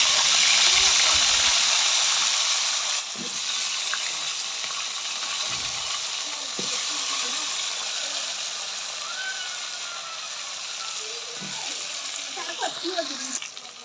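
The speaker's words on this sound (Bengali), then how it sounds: "এবার ওই তেলের মধ্যে আলুগুলোও ভেজে নেব।" Potatoes fry in oil left in a pan from frying rohu fish, producing a steady, fairly loud hissing sizzle throughout with a few faint clinks and stirring sounds.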